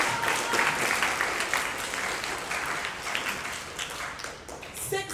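Applause at a school awards day program, a steady crowd clapping that fills the whole stretch at moderate level before thinning toward the end.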